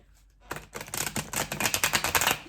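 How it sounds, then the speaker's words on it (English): A tarot card deck is riffle-shuffled close up: a quiet pause, then a rapid run of crisp paper flutters and clicks, building into rhythmic bursts of card snaps, with no speech. "So I'm just shuffling the deck."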